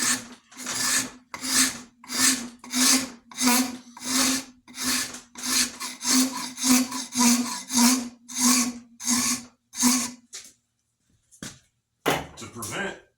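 A rasp files wood on an axe handle in steady back-and-forth strokes, about a dozen rhythmic rasping passes, close and fairly loud, then a pause and a few more strokes.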